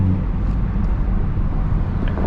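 A B58-engined car tuned to about 500 wheel horsepower cruises at low speed, its steady deep exhaust drone loud and continuous from the cabin with a faint rush of road and wind noise.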